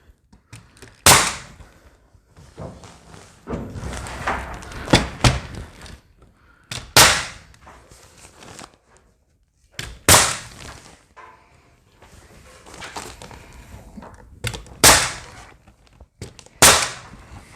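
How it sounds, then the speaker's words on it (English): Sharp wooden knocks of a nail gun's nose tapping V-match ceiling boards into place, several loud isolated hits spaced a second or two apart, with scraping and shuffling of the boards between them. "I abuse my nail gun and I use that end of it, tap it into place"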